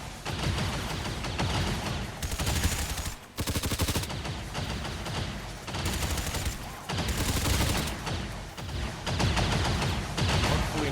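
Gunfire in XCOM 2 comes in dense, loud bursts of rapid shots, with sustained volleys broken by short gaps and nearly continuous fusillades throughout.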